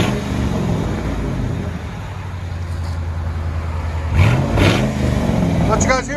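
A 2001 Mercury Grand Marquis 4.6L V8 with true dual exhaust and muffler delete, heard from inside the car, droning steadily with a low rumble before a brief rev near the end, loud and close.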